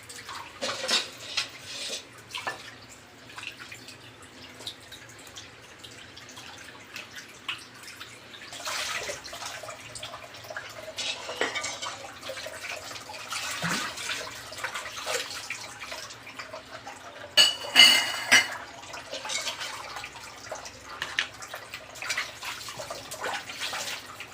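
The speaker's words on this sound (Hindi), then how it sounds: "एकदम अच्छे से बर्तन धुल रहे हैं, पानी एकदम साफ है" Dishes washed by hand in plain water without soap, with a running tap, sloshing water, and clattering pots, pans and cutlery throughout, close and busy with occasional louder clanks.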